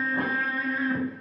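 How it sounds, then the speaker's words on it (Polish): Pinch harmonic on an electric guitar picked with a plectrum, a single sustained squealing overtone ringing over a distorted, effects-laden tone, loud and close for about a second with no talking. "a tutaj zagram pinch harmonic."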